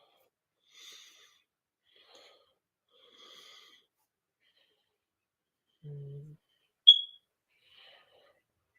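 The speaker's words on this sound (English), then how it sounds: "Oh my god, the fire alarm." A fire alarm gives a single sharp, high electronic chirp in an otherwise quiet indoor room, with a few faint scattered sounds and a short low hum just before it.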